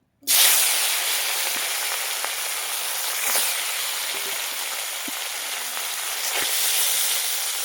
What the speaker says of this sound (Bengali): মাছগুলো আমি লাল লাল করে ভেজে নেব।